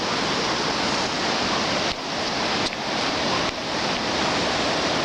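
The flooded New River rages past in a steady, dense roar of rushing water, loud and continuous, with no voices over it.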